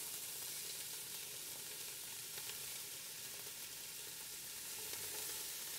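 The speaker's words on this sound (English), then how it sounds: "we're going to add in the onions and the garlic and the carrots" Onions, garlic and carrots sizzle with browned sausages in a pot, producing a continuous bright crackling hiss at moderate level with no one speaking.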